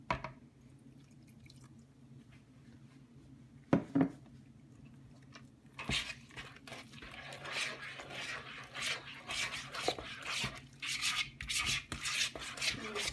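A spatula scraping the sides of a mixing bowl of cinnamon roll dough: soft, close rubbing and squishing strokes, quiet at first, then repeated wet scrapes that grow busier and louder in the second half, with no talk.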